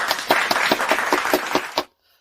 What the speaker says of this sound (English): Audience, give them a round of applause.